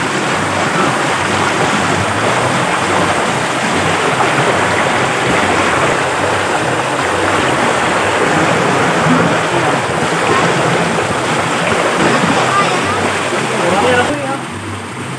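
Strong water current rushes from a fish pond being drained during a harvest of crabs, tilapia, milkfish and prawns, a loud, close, continuous roar of flowing water that holds steady throughout.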